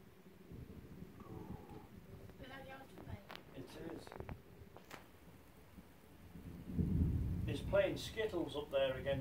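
Heavy thunder rolls over steady heavy rain during a night storm, a deep rumble building loud near the end, with people chatting and exclaiming nearby throughout.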